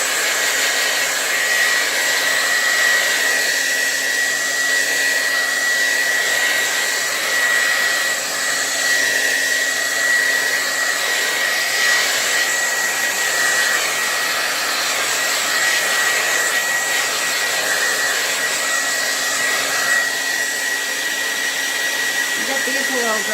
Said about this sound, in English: I'll get my blow dryer out for a second.